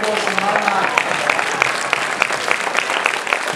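Applause from a watching crowd at an outdoor tiger show, brisk clapping spread across the audience with a voice over a loudspeaker partly overlapping it.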